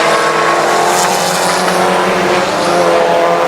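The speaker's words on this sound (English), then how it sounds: "We got a great battle for second as Garner slides by Irvin into 33." Race cars battle on the I-37 Speedway track, their engines a loud, continuous roar that swells and holds steady throughout with no voices.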